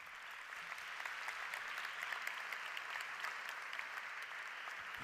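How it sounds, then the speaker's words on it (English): An awards ceremony audience applauding at a hospitality awards event, a sustained even roar of many hands, steady throughout but quietly captured. "Let's give them a round of applause again."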